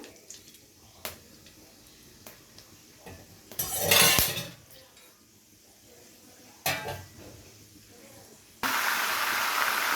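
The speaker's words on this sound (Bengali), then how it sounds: "এবারে তেলের মধ্যে দিয়ে দিচ্ছি ফোড়নের জন্য গোটা গরম মশলা" Whole garam masala spices go into hot oil in a pan for chicken biryani: scattered utensil clinks and brief bursts of frying, then a loud, steady sizzle that fills the last seconds.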